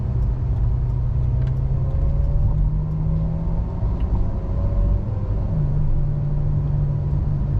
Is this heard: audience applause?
no